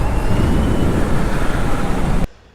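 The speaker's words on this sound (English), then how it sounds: "futuristic, whirring sound because of the liquid cooled motor" A BMW CE 04 electric scooter with a liquid-cooled motor and belt drive pulls away with a loud, steady whir and rush of air, the sound cutting off abruptly near the end.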